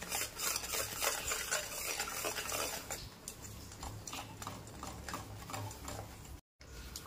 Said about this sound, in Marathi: हे आपलं मिश्रण चांगलं शिजवून घ्यायचं आहे